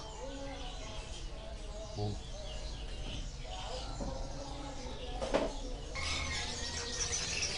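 Birds for sale at the PASTY animal market in Yogyakarta chirp and tweet in faint scattered calls amid market bustle, while a person briefly makes an exclamation.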